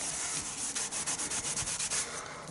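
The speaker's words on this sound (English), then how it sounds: "Just buffing it up and getting rid of any of the excess ink lying on top" Clean cloth rubbed briskly across embossed card to buff off excess ink, a close, quick run of dry scratchy strokes in a steady back-and-forth rhythm.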